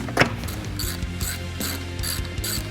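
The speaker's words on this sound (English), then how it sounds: "bolt it back in place" Ratchet clicking steadily as it tightens the headlight mounting bolt on a Jeep JL/JT, close up with a regular rapid pawl rhythm and no talk.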